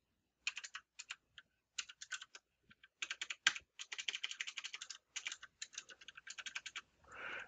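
Login details typed on a computer keyboard, a close run of quick, light key clicks in bursts with short pauses, ending in a softer rustle.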